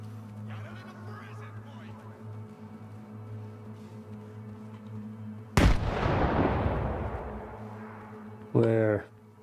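A grenade blast lands with a sharp, loud crack and a rumbling decay in the Stalker 2 video game, fighting in Garbage Town. A brief burst of gunfire follows a few seconds later, with a faint voice earlier on.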